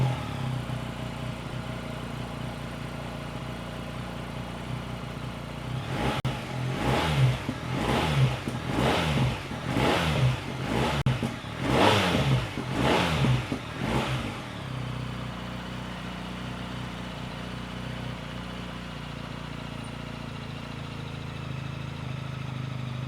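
A motorcycle idles, then its engine is revved hard in a rapid series of loud throaty bursts through a free-flowing exhaust with a header fitted before settling back to idle.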